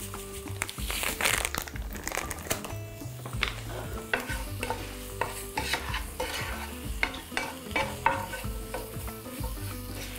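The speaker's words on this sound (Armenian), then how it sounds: "ինչ սոխը տապակվում է" Onion frying in a pan for Armenian bozbash with lamb, a continuous soft sizzle under frequent close scraping and rustling stirs that come in an irregular rhythm, with no talking.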